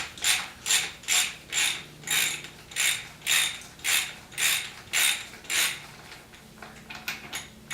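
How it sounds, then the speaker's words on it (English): A ratchet driving a 24mm socket on the fork cap of a Vstrom motorcycle, clicking in a steady rhythm of about a dozen close, loud bursts that slow and soften toward the end. "now we're going to go ahead and take our pre-loosened cap off."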